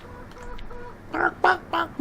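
Chickens in the Farming Simulator 15 video game give a run of four short, evenly spaced, nasal clucks that rise clearly above a low background murmur.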